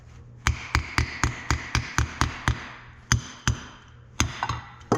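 A hammer taps on the aluminum cover of an 1855 tractor under restoration, giving about a dozen sharp, close metallic knocks, first in a steady rhythm and then in a looser, uneven cluster.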